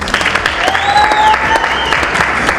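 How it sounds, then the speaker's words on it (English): An awards-event audience gives steady, energetic applause that stays loud throughout, with faint whoops rising over the clapping. "Give yourselves another round of applause."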